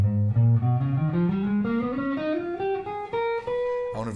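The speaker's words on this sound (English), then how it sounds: "So the altered scale sounds like this." Guitar plays the altered scale as a steady ascending run of single notes, each clearly sounding and climbing in pitch, close and solo with no speech.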